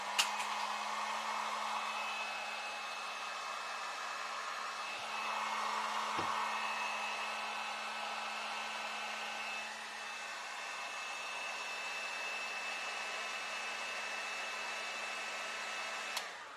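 A heat gun blowing hot air while working on wiring for an electric go-kart, a steady, close whooshing roar with a faint tonal whine that runs unbroken for the whole stretch, alone without speech.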